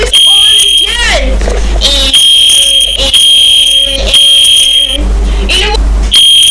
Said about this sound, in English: The fire alarm is on again.